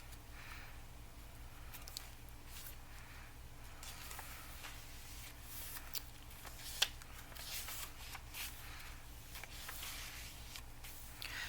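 Paper pages of a handmade pink journal flip one after another, dressed with lace trim, ephemera and a small tag. Soft, steady rustling and light papery flutters carry on close by, with one sharper flick partway through and no voices.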